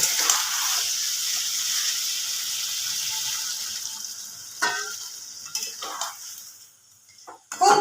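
Marinated chicken frying in a kadai as a little marinade water is poured in, a steady sizzle and hiss fading into soft stirring scrapes and a few sharper clinks of a spoon against the pan, no one talking.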